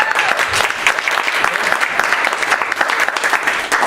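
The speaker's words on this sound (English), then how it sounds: "give her a round of applause" A live audience at a 106th birthday celebration applauds, a dense, steady wash of clapping that holds fairly loud and even from start to finish.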